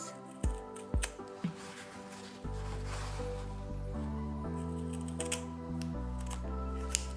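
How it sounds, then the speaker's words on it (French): Scissors snip away excess fabric at the edge of a freshly sewn seam on round quilted pot holders, a few sharp, close clicks early on followed by a steady low hum in the background. "la couture est faite et vous allez couper ce qui dépasse"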